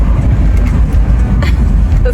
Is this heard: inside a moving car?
yes